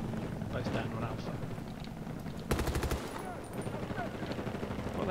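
Battlefield gunfire on Arica Harbor sounds as a rapid burst of automatic shots under ongoing in-game noise and faint voices, fairly quiet overall.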